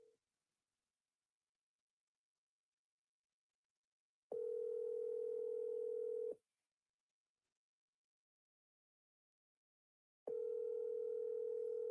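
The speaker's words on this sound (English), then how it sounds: "your phone is ringing" A telephone ringback tone sounds during a call, two long steady tones about two seconds each separated by a long silence, clear and alone.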